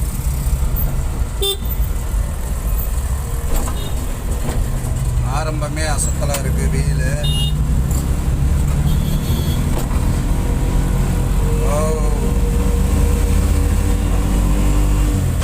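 Heavy road traffic on Mount Road, heard from a load auto: a steady loud rumble of engines with several horn toots scattered through, under continuous talk.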